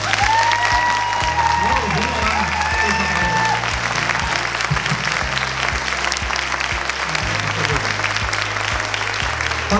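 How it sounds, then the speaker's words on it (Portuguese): Warm applause from an audience at a Sorocaba business breakfast, steady dense clapping that fills the whole stretch at close range, with a low thumping beat and a brief tone running underneath. "Recebam com uma salva de palmas calorosa o nosso querido André Mendes."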